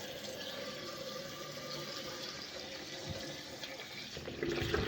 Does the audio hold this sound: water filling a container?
yes